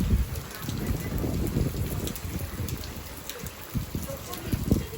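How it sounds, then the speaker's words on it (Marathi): Dense, steady hiss of rain with scattered louder patters and thumps, fairly close and continuous throughout. "एवढा पाऊस कशासाठी पडत असन"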